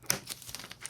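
Brief crinkly rustle of adhesive weather stripping being handled while fitting it to a Marshall 4x12 guitar speaker cabinet, a few soft close crackles and taps, quiet and alone.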